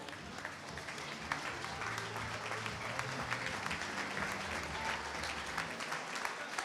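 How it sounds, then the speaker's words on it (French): Audience at a packaging company's 80th anniversary event gives sustained applause, steady and dense clapping from a sizable crowd in a hall, with faint background voices underneath. "Bravo, on peut l'applaudir, bravo."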